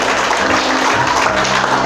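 A church congregation applauding, a dense, loud, continuous burst of many hands clapping together for a couple of seconds.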